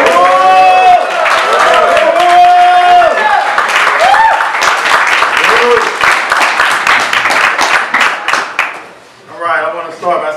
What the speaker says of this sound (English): please give a round of applause for Brother Tachara Masemba.